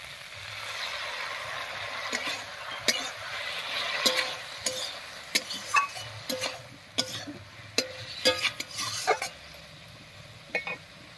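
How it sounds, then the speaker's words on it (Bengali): Taro being sautéed in a pan with spice paste and water, a continuous wet sizzle under repeated scraping and stirring clacks of a spatula against the pan, close and fairly loud, with a faint voice briefly in the background. "এবারে মশলা বাটা জল দিয়ে কষিয়ে নেব।"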